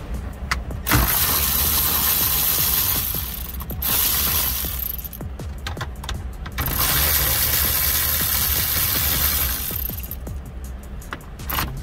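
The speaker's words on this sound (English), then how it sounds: "Then we'll remove those bolts." A ratchet removes the head unit bolts from a Toyota 4Runner dash in three bursts of quick clicking separated by short pauses, close and clear with no talk.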